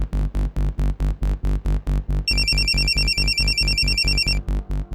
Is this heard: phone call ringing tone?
yes